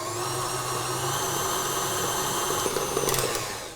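A stand mixer beats cookie batter for rainbow cookies at medium-high speed, a steady, close motor whir with a constant hum, and a few faint rattling ticks near the end.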